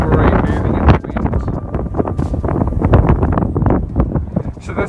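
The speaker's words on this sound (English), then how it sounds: "Super windy here today." Strong wind at Chittaway Point lake buffets the microphone in loud, uneven gusts, a constant low roar rumbling throughout.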